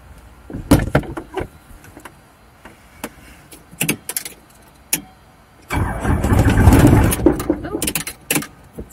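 A helicopter engine, primed like an old car, starts during a flying lesson in Seattle: scattered sharp clicks and thumps come first, then a loud, rough cranking roar swells up and holds near the end, with no voices.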